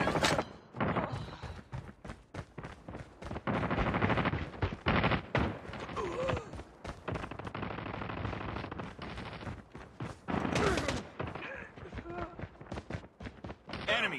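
Rapid bursts of automatic gunfire and single shots crack repeatedly in a shooter video game, loud and dense, with game voice lines calling out over the firing.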